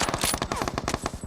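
Rapid machine-gun bursts crack loud and close in a shooter video game, a dense stream of around a dozen evenly spaced shots.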